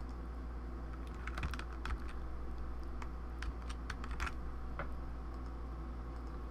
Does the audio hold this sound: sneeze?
no